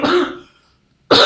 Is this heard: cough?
yes